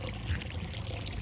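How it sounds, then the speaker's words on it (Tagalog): Water trickles steadily from an overflow into a concrete crayfish pond, a faint, continuous splashing dribble with no voices. "dun tumutulo yung tubig sa ating overflow"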